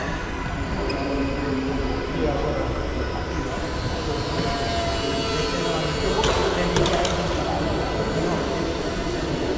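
An indoor RC model plane styled on the Canberra bomber whirs steadily at close range as it flies and comes in to land, a continuous motor drone with a brief brighter burst near the end.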